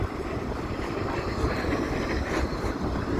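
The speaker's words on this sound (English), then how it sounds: "Here's a tram." A Blackpool tram passes along the promenade on a rainy day, giving a continuous loud rumble and broadband rolling noise close by, with no talk over it.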